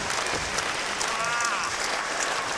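British independent pro wrestling show crowd applauding and cheering in a hall, dense sustained clapping with a roar of voices throughout, a commentator talking over it.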